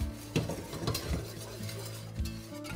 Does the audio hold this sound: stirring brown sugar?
yes